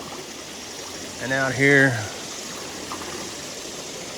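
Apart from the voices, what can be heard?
small waterfall flowing over piled cobbles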